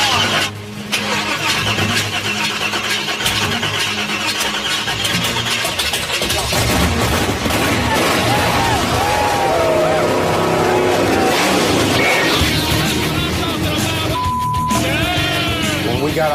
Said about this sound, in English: These guys are super excited to hear this big block run